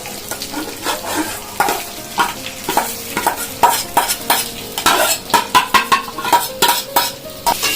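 Rice for basanti pulao is tipped into a pan of oil with fried cashews, raisins and whole spices and stirred, producing repeated close spatula scrapes and clinks over a continuous sizzle.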